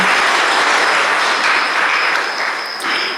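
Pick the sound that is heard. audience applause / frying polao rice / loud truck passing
audience applause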